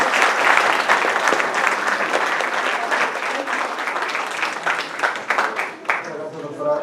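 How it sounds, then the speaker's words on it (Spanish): An audience applauds steadily at a live event, dense continuous clapping filling the whole stretch, thinning slightly toward the end as a voice begins to speak. "Un aplauso"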